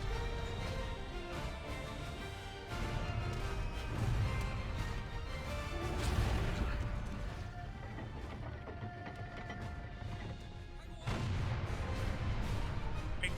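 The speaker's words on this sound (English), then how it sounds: "Big cannon." Heavy cannon fire in the Bayonetta 3 video game, with booming blasts and mechanical clatter layered over a dense, loud battle soundscape and music, with several stronger thuds along the way.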